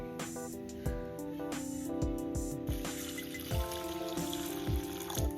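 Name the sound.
washing flattened rice (poha) in water in a bowl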